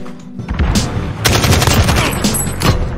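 An AK rifle fires in the Call of Duty Modern Warfare video game: loud, close bursts of rapid automatic gunfire that come in quick clusters.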